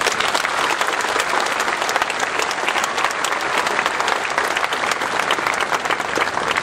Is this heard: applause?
yes